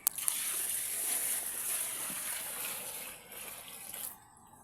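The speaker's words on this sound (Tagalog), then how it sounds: "Tubig." Water gushes and splashes steadily for about four seconds, poured out during a fishing catch, a broad rushing wash that tapers off abruptly near the end.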